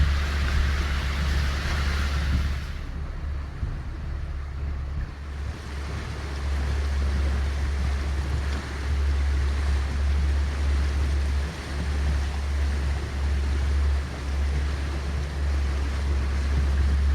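A shanty boat moves over the water in rain and wind, a steady loud wash of water and wind rush with no voices.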